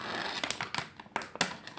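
German chocolate packaging crinkles and tears up close in short, irregular bursts, fairly quiet, with no voices.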